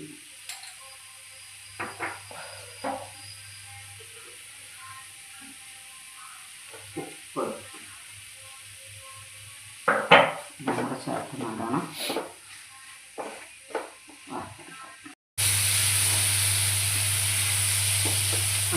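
Spice powders including chili powder, garam masala and pepper roasting in a pan for paneer masala, with intermittent sizzling and spoon scrapes against the pan, clustered strokes midway, then a steady loud hiss at the end; a voice speaks occasionally.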